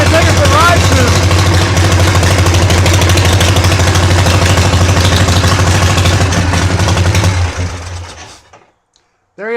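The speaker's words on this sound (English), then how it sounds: "Electric start works, kick start works, bike runs great." A Harley-Davidson Shovelhead motorcycle engine runs loud and steady with a deep, lumpy idle and mechanical clatter, then cuts off near the end, leaving a brief quiet before a short burst of sound.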